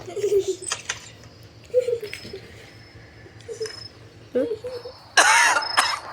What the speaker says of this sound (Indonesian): Ini ada yang batuk. Itu tuh kakek-kakek.